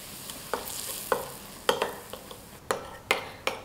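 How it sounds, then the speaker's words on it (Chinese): A spoon stirs flour into freshly heated oil in a bowl to make an oil paste, giving a quiet sizzling hiss punctuated by distinct scraping clicks at an irregular rhythm, close by, with no talking. "搅拌均匀，调成一个稍微稠一点的油酥"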